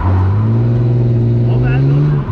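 Drift car engine revving hard under throttle, a loud close droning tone that climbs steadily in pitch for about two seconds before a brief dip at the end; a voice comes in faintly under the engine.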